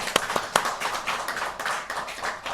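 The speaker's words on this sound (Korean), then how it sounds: "우리 박수 한번 하겠습니다." A church congregation at a Sunday morning service claps together, starting with a few sharp distinct claps and then settling into a brief, fairly close patter of applause.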